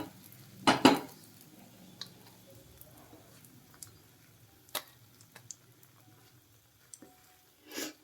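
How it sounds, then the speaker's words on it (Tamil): Cooked egg bites being lifted out of a kuzhi paniyaram pan into another bowl, with sparse metallic clinks and taps of a spoon against cookware, one louder clatter early, and quiet gaps between. "இப்போ இது வேறு பவுலில் மாற்றிக்கலாம்."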